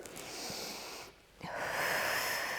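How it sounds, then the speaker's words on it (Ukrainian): A deep inhale followed by a long, drawn-out exhale during a morning breathing exercise for ankylosing spondylitis, close and airy, with a brief quiet pause between the breaths and no talking. "Ще раз вдох і довгий-довгий видих."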